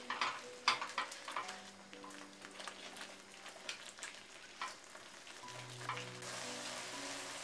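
A spoon stirs paneer tikka masala gravy in a pan, soft scraping and bubbling sizzle with irregular clicks, faint and close, with no talk.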